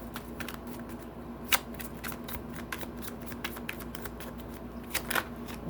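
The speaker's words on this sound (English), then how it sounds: "let me give this another shuffle. Let's just shuffle this up a little bit" A deck of tarot cards is shuffled by hand at close range, quiet riffling and sharp flicking snaps in quick irregular bursts over a faint steady hum, no talking.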